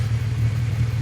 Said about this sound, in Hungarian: Igen, megjön a motoros.